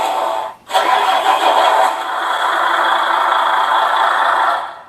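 A Beier SFR-1 sound module in a Tamiya 1/14 scale RC truck plays a loud simulated engine start, a brief dip, then a rattling diesel idle running steadily for several seconds.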